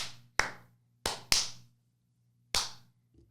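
Four sharp, close hand claps from podcast hosts, spaced irregularly with silence between them, each with a short room echo, in an otherwise quiet studio.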